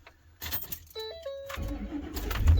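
A car engine cranks and fires up after a blend door actuator installation, with keys jangling first, then a brief starter whine and a rising low rumble as the engine catches and settles into a steady idle close by.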